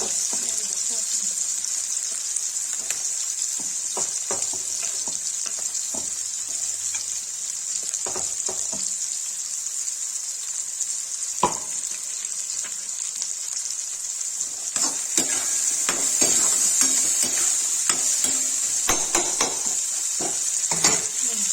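Onions fry with ginger and garlic in a pot for Kashmiri-style rajma, giving a steady close sizzle throughout, with scattered scrapes and knocks of stirring and a louder, busier patch of frying near the end.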